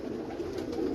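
Pigeons cooing on a rooftop in Mianwali, a brief low, throaty burble that stays fairly close and steady, with no talk over it.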